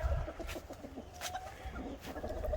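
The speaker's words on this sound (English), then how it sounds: "We got the chickens in here" Chickens inside a backyard pen give soft, low clucks and coos, faint and close, with light rustling between calls.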